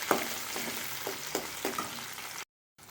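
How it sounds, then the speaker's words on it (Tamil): Cumin and chopped onions fry in a pan for a brinjal curry. A close, gentle sizzle runs under light stirring taps, then cuts briefly to silence near the end. "நம்ம கட் பண்ணி வச்சுருக்க வெங்காயத்தையும் கொஞ்சம் சேர்த்துக்கலாம். வெங்காயம் கொஞ்சம் வதங்கட்டும்."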